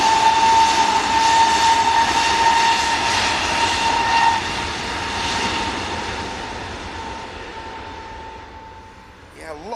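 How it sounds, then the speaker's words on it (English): A C-130 Hercules military transport aircraft passes overhead with a steady, broad propeller-engine roar that slowly fades toward the end, joined by a thin sustained tone. "a lot of those C-130 Hercs transiting through Shannon, so there's another one just flew over"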